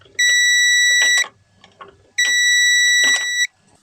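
Continuity tester hooked to the reverse switch of a barn-find TA22 Toyota Celica beeping as the transmission goes into reverse: two sustained, loud electronic tones of about a second each, separated by a short pause with faint shuffling.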